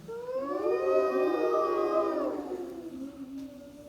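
A child or performer in a preschool Finding Nemo play imitates a whale call, one long wavering, howl-like moan that rises and slowly fades over about three seconds, with no other talk.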